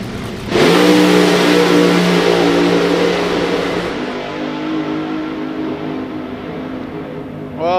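Drag racing cars launch hard at Santa Pod Raceway, a sudden loud engine roar of two cars running side by side that holds steady then slowly fades into the distance, with a brief rising engine whine near the end.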